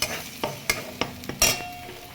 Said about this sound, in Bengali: চলো এবারে এই যে দুটো ডিম ভেজে নিই